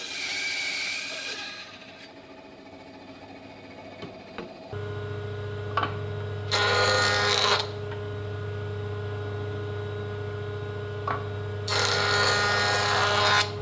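A jointer in a woodworking shop hums steadily at idle, with two loud bursts of planing as a wooden board passes over the cutterhead, plus scattered clicks and knocks.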